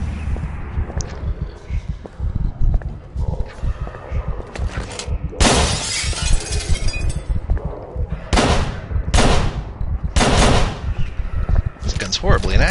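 Gunfire in the horror game Call of Cthulhu: Dark Corners of the Earth, with several loud, sharp shots spaced through the stretch among game noises and a voice talking.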